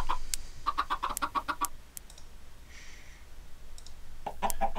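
Chickens cluck in quick repeated bursts, with sharp clicks and scattered game sound effects between them, then a fresh run of clucking at the end.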